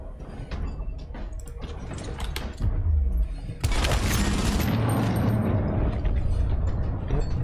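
Gunfire in the turn-based game Gears Tactics: loud booming shots and a burst of impacts, the middle blast heavy and sustained, with mechanical clatter and background game sound around it.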